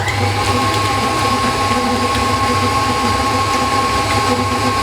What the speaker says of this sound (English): Then you want to turn your mixer on low, get it all mixed together